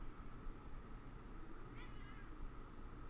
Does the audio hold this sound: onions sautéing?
no